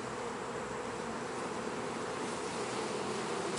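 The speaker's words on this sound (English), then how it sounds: "So there are the bees." Honeybees in an open hive between the first and second brood boxes, a dense continuous buzzing swarm sound, close and steady with no talking.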